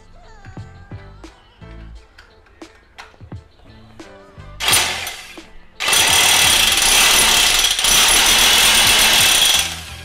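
A Makita electric demolition hammer running on 220V power, first a few clicks and short bursts, then a loud, continuous rapid hammering that carries on for several seconds.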